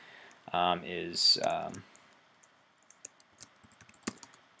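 Computer keyboard keys tapped lightly and unevenly, with scattered quiet clicks following a brief burst of speech at the start.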